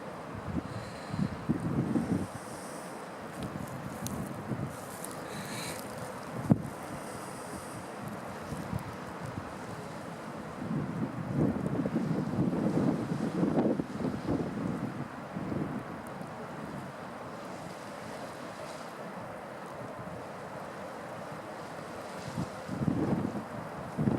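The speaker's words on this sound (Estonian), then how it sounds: "Külm ja tuul." Strong cold wind at about 22 m/s buffets an outdoor coastal spot where swans gather, roaring steadily across the microphone with gusting surges and a dull low rumble, with no talk heard.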